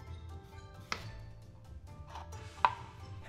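A knife trims a daikon radish on a cutting board, giving two faint, sharp chops about two seconds apart in an otherwise quiet kitchen.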